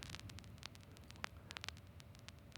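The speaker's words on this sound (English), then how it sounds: "So you can remove the noise and have just this vinyl scratch." Faint crackles and pops scattered over a soft hiss, like the surface noise of a worn vinyl record, produced as a vinyl scratch effect on a modular synthesizer FX Aid module, with no voices.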